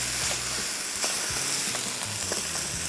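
Empanada filling sizzles steadily in a hot pan, a close, even frying hiss with occasional soft stirring scrapes and no talking.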